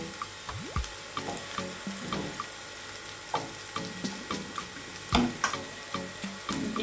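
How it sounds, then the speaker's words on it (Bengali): An egg frying in white oil in a pan while making homemade egg chicken noodles, a steady crackling sizzle with scattered pops and clinks of utensils against the pan. "সামান্য একটু তেল ঢেলে দিলাম, সাদা তেল। এটা ভাজা হয়ে গেছে, এবার ডিমটাকে ছেড়ে দেবো।"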